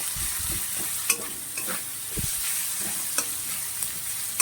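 Onion and chilli frying in oil in a pan for a spinach and prawn dish, a steady soft sizzle broken by a few sharp scrapes and taps of a stirring spoon.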